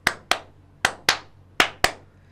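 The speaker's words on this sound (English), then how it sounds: "what I call is the clap, clap, clap technique" Six sharp hand claps in three quick pairs, each followed by a short decaying reverberant tail in a room, loud and close with silence between them.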